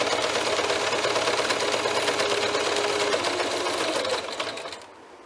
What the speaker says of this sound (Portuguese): eu faço uma costura com meio centímetro simplesmente para segurar